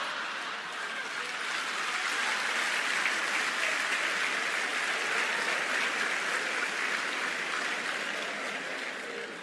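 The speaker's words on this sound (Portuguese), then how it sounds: "Estava difícil de você aplaudir" Sustained applause from a large event audience, dense and even for several seconds, swelling slightly in the middle and easing toward the end with no speech over it.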